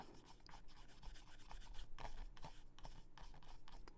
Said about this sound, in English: We do want to make sure to get it rubbed in a good bit, so that way all of the oil can get absorbed.